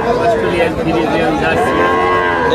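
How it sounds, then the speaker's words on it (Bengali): A young Australian heifer calf moos loudly and at length at a busy cattle market, the low drawn-out call close and dominant over crowd chatter behind. "এটা হচ্ছে অস্ট্রেলিয়ান বকনা বাছুর।"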